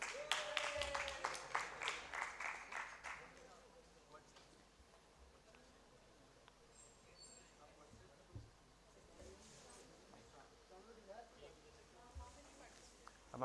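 Audience at an annual foundation day celebration clapping for a few seconds, brisk scattered applause, fading into quiet murmur with a voice speaking over a microphone afterward.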